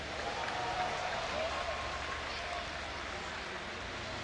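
Crowd applauding and cheering at a StarCraft II esports match at Gamescom, a steady wash of clapping spread across a large hall, moderately distant and even in level, with no voices.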